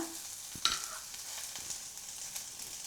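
Vegetables and drumstick being stirred in hot oil in a pan while sambar is cooked: a soft, steady sizzle with a few scraping stirs, quiet and close, with no talking.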